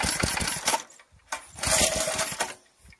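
A Briggs and Stratton 4hp tiller engine, started without the choke, sputters into life in uneven, rough bursts close by, with brief drops between surges.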